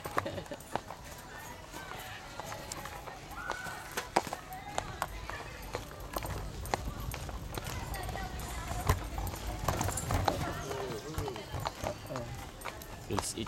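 Hooves clip-clop steadily while riding, with people talking over the rhythmic footfalls throughout.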